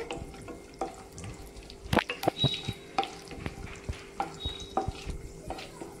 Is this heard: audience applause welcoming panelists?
no